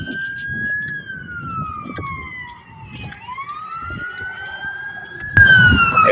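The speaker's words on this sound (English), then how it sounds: "It's an ambulance." An ambulance siren wails past on a city street, its rising and falling tone sweeping loud and close before swelling again at the end, heard alone without talk.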